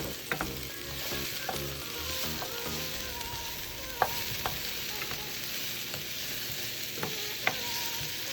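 Meatballs, mushrooms, onions and garlic sizzle together in a pan, a steady frying hiss broken by occasional sharp utensil taps and scrapes, close and moderately quiet, without speech.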